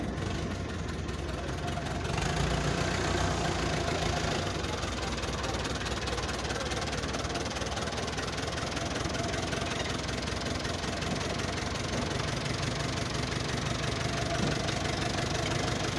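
A tractor engine idles while a truck is being loaded outdoors, a steady, close rumble with a knocking vibration that holds unbroken throughout.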